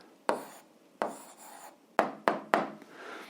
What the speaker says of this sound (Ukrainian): Ну, а зараз записуємо відповідь, пишемо відповідь.